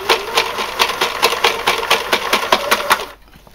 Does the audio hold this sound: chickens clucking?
no